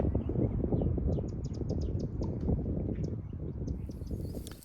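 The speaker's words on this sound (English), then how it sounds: "hearing some birds in the background" Birds chirp in the background at Buenos Aires National Wildlife Refuge, a run of small, high, rapid calls sitting faintly over a heavy, rumbling low noise near the microphone.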